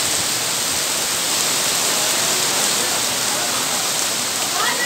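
Rain falls steadily in Lahore as a dense, even hiss of constant loud rainfall with no pauses.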